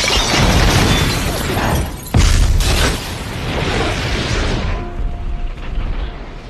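Bomb explosion in an action film about elite US forces hunting a terrorist: loud sustained blast roar with a sharp second burst midway, then rumbling debris fading to a quieter tail.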